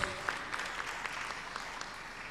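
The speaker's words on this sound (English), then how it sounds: "let's give a round of applause." An audience gives a round of applause at an international quality education conference, a steady wash of clapping across the room with no talk over it.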